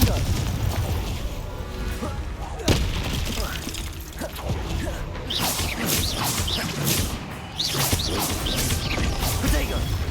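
Blasts of the Confringo fire spell in Hogwarts Legacy, booming bursts scattered across a busy battle mix with other spell effects and crackles, a sharp crash standing out near the middle.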